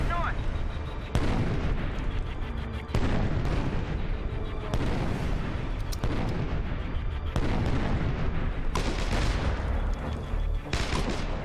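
Repeated grenade launcher explosions in the video game State of Decay, loud booming blasts landing about every two seconds over a constant rumbling din of gunfire.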